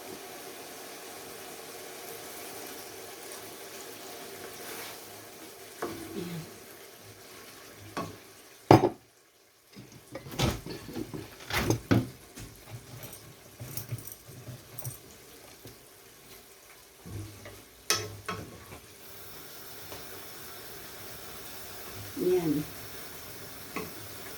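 Meat sautés in a pan with a low sizzle, broken by irregular stirring and scraping clatters; a person talks at intervals throughout.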